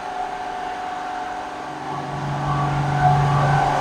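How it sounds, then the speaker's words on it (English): The 30-horsepower compressor of a 10-ton-per-day tube ice machine at an ice plant in Dakar, Senegal, runs with a steady mechanical hum and tonal drone that swells slightly louder toward the end. "This is the compressor."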